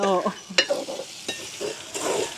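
Spiced curry mixture stirred in a frying pan during village home cooking: a soft sizzle broken by several sharp scraping strokes of the spoon, with a short voice fragment at the start.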